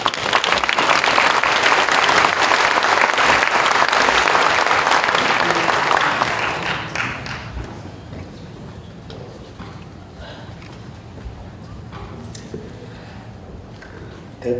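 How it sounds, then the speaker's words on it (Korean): Loud, dense applause from an audience at a Korean Presbyterian Day gathering, welcoming a presidential office official to the podium, fills the first six seconds and then fades to a quiet room with scattered faint sounds. "나오실 때 힘찬 박수로 환영하시겠습니다."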